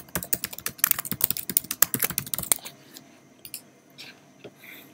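Typing on a Mac keyboard while adding a text box in Microsoft PowerPoint for Office 365: a quick, close run of key clicks for about two and a half seconds, then a few scattered, softer taps.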